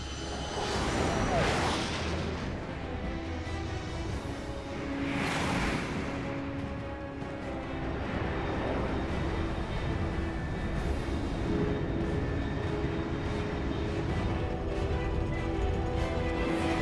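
A supersonic aircraft in Metal Gear Solid Delta roars past as a loud, broad rushing whoosh that swells and fades in waves over sustained rumbling noise.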